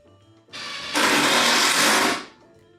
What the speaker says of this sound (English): I just got gun-ho with the drill